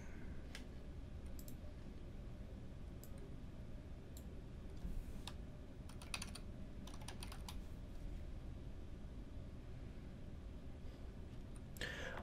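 Faint computer mouse clicks, a handful of soft, sharp ticks spread irregularly over quiet room noise, heard while navigating the WHM server settings.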